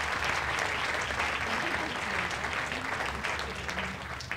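An audience applauds paleontologist Jean-Sébastien Steyer at a festival screening of short films, a sustained, even round of clapping that holds throughout and tapers slightly toward the end.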